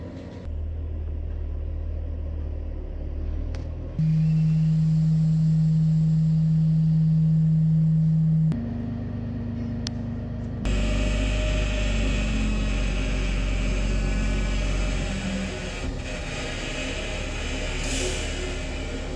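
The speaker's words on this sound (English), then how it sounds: "That truck is bigger than our house." A large truck rumbles past on a road, a loud low engine drone that shifts and swells across the stretch, with steady droning tones layered in and no talk.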